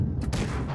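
A single tank cannon shot from World of Tanks Blitz, a close, heavy boom with a short rumbling tail. No talking over it.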